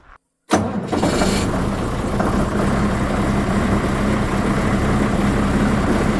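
A frosty, iced-over tractor with a plugged-in engine heater cranks briefly and catches, then settles into a steady, loud idle that runs unbroken on a winter farm.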